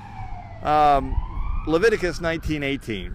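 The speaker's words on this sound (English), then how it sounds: "Get a little bit of a siren activity" An emergency vehicle siren wails briefly in downtown Mansfield, a rising tone that a voice talks over and then continues past.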